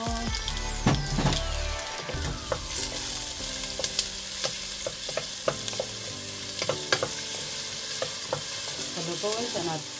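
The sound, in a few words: tomatoes cooking in a pan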